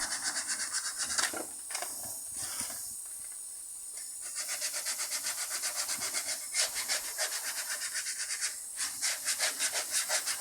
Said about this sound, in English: A little sanding ensures that the shoes are properly clean.